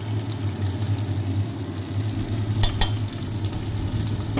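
Fish fries in oil with cut green chillies just added for coriander-paste fish. The sizzle is dense and loud, with a faint low hum underneath and a couple of brief sharp crackles near the end.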